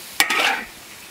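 Chili peppers stir-fried in a wok, with a single sharp scrape of the spatula followed by a brief hiss of sizzling that quickly fades, heard close and loud.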